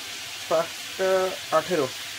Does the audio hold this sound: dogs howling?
no